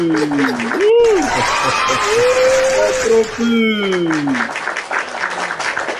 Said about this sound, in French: Applaudissez pour lui, applaudissez pour lui.